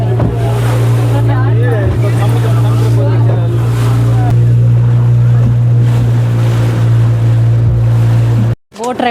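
A motorboat engine drones steadily near an island, with wind and water rushing past and people talking over the engine throughout.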